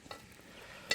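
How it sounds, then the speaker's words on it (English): Roast pork sizzles in a camp oven over a campfire, a faint soft crackle with one brief sharper hiss near the end and nobody talking. "Sizzling."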